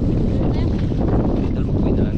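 Strong gusting wind buffets the microphone at sea near small fishing boats, a loud continuous roar with low rumble and no clear talk.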